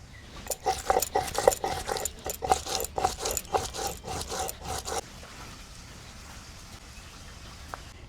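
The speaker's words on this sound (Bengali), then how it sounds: "এবারে মশলার মধ্যে কিছুটা আদা, কাঁচা লঙ্কা, শুকনো লঙ্কা, কিছুটা ধনে আর কিছুটা জিরা একসঙ্গে বেটে নেব।" Ginger, green and dried chilies, coriander and cumin ground together into a spice paste, a close run of rough rasping grinding strokes for about five seconds, then quiet.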